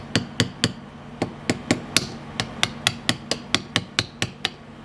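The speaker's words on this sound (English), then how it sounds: "Maybe if we get in here and kind of try and hammer our way down." Sharp, regular hammer blows on the plastic of an Astro A20 headset, about sixteen evenly spaced strikes, close and clear with no talking.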